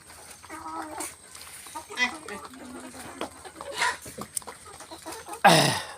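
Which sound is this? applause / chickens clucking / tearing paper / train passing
chickens clucking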